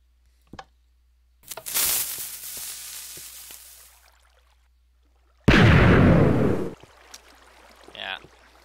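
A Minecraft piston cannon fires twice in the game, each shot a sharp burst followed by a rushing, explosive roar that fades, with a few small clicks before and a short pop at the end.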